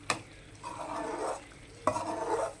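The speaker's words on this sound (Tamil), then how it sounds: "அடிக்கடி கிளறி விட்டுட்டு இருக்கணும், இல்லைன்னா அடி பிடிச்சிடும்" A spoon scrapes and stirs prawn thokku masala in a pan, with two sharp knocks against the pan followed by sustained sizzling, frying swishes, close and moderately loud.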